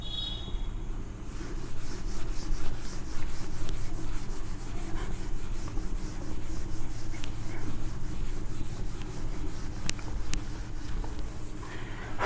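A board being rubbed clean of writing during a Hindi geography lesson, heard as a steady, close scrubbing and rubbing that runs for several seconds without talk.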